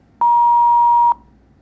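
A single steady electronic tone on a telephone line during redialing of a call, clean and loud, lasting just under a second before cutting off into faint line hiss.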